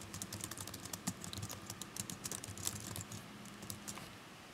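Someone typing a question on a computer keyboard, a steady run of quick, soft key clicks heard close up and fairly quiet, with no voices.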